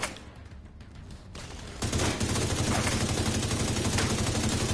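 Sustained rapid gunfire in The Division 2 while shooting engineers at a bank headquarters, loud and continuous, building into a dense, steady barrage of automatic fire.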